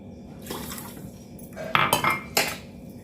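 A spoon stirs sugar dissolving in water inside a metal pot, giving light scraping clinks with a few sharper knocks against the rim near the end.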